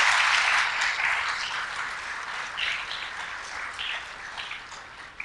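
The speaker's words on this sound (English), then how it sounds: "let's give them a round of applause" An audience at an energy efficiency awards event applauds the organizers, a full burst of clapping that starts strong and gradually thins and fades, with no talking.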